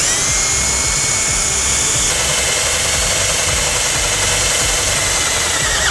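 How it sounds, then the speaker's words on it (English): A power drill with a 7/32 bit boring a hole in metal on a 2011 Ford E-Series van during trailer wiring installation, a steady, loud, continuous whine held for several seconds. "We're going to take a 7/32 drill bit and drill a hole."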